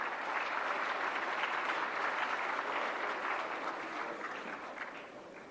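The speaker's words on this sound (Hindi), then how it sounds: "तालियों से स्वागत करें माननीय मंत्री जी का।" Sustained applause from a large audience welcoming a minister at a national film awards ceremony, a dense, even wash of clapping that holds steady and eases slightly toward the end, with no speech over it.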